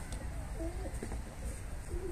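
Escaped pigeons cooing with soft wing flutters, short low coos repeating a few times over steady outdoor wind noise, fairly faint and close.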